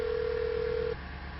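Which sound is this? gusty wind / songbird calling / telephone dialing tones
telephone dialing tones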